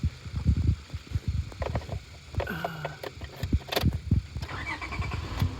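A Honda Odyssey engine cranks with rapid uneven chugging, then catches and settles into a running idle with whirring, close and moderately loud.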